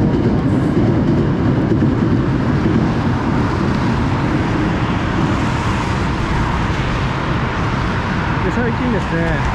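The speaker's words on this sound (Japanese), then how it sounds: "かなり阪急の電車の音が大きいかなと思います。" A loud Hankyu electric train rumbles steadily past nearby, a dense roar with rail noise throughout, and a voice is faintly audible underneath.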